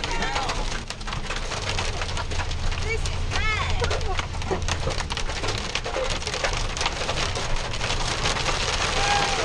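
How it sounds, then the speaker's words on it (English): Hail and rain pelt a surface in gusting wind during a storm, a dense, steady patter with sharp impacts throughout, close and loud, while birds call faintly now and then. "Oh, it's hailing."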